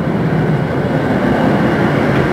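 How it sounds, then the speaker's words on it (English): Tram number 5 rolling past in Bratislava, a loud, close, steady rumbling roar with rail noise, no speech. "And that tram goes to the lake."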